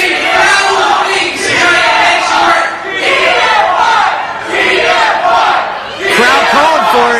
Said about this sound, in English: Crowd calling for it.